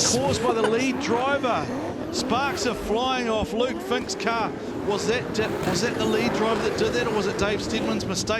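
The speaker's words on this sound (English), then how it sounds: "You can hear that angry V8 barking away underneath the bonnet of the VIP frame and truss machine." A V8 drift car engine barks and revs at Baypark Stadium during a drifting grand final battle, running steadily beneath continuous excited commentary with occasional tyre squeal.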